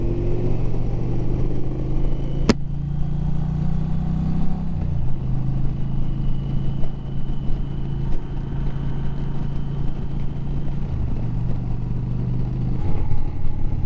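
An Indian Challenger motorcycle on a test ride, its engine a low steady rumble heard from the saddle, with a sharp click early on and small shifts in pitch as the rider eases the throttle.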